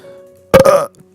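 A single short, loud burp from a man, close to the microphone, with a faint steady hum in the background.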